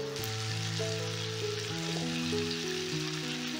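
Chicken meat sizzles steadily while being sautéed in oil, a loud, continuous frying hiss with soft stirring scrapes and no voices.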